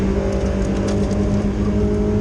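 Race car engine pulling hard under full acceleration during a race, heading into a fast right-hand corner past a blue Vauxhall Astra; a loud, steady, close-up drone holds throughout with no speech.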